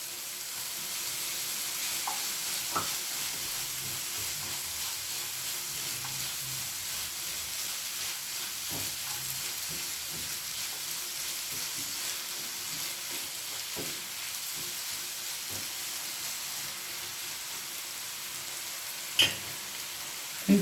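Mango pickle with jaggery cooking in a pan, a steady, soft sizzle and frying hiss running throughout with a few faint clinks and stirring sounds, no voices.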